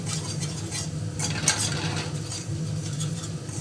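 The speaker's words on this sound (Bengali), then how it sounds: "এবার এটাকে ভালো করে কষাবো।" Spices for a boal fish curry fry in oil while being stirred steadily, a close sizzle under repeated scraping strokes of a spoon against the pan, with an underlying hum from the stove.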